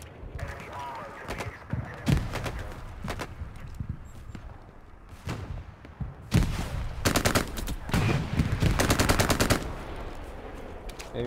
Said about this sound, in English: And there's an MG.